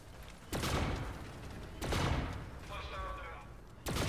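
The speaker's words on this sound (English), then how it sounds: "I'm testing out the new gun. The new gun that they put in the game, the MB4 Black Hat." Bursts of automatic fire from the MB4 Black Hat gun in a shooter game: three loud volleys spaced about 1.5 seconds apart, each a sharp onset trailing off, with a voice talking between them.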